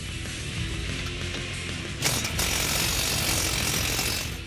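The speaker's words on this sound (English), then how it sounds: "Now we can unbolt the strut from the spindle." Tools work on the strut-to-spindle bolts of a 2005-2010 Mustang V6/GT, a dense, continuous mechanical rattle with a sharper burst midway, close and loud throughout.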